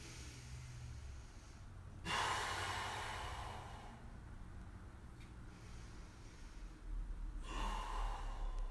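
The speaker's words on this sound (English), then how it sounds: "Okay, big breath in." A deep, audible breath drawn in during an exercise routine, a broad breathy rush lasting a couple of seconds, followed by a quieter hold and a second breathy swell near the end, close to the mic with no talking.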